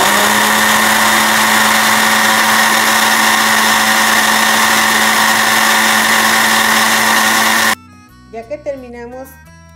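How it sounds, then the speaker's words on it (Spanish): Blender running steadily, liquefying corn masa with water for Christmas hibiscus atole; a loud, even motor whir holds for about eight seconds, then cuts off abruptly, and a voice speaks briefly afterward. "Vamos a llevarla a la licuadora."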